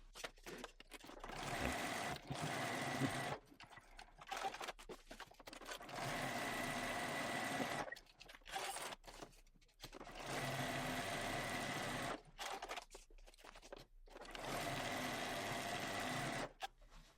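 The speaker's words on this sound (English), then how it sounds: "I'm going to go to my sewing machine and I'm going to top stitch about 1/8 of an inch from this top sewn edge" A sewing machine top stitches fabric in several bursts of steady, rapid whirring, stopping and starting between runs, close and clear with no talking.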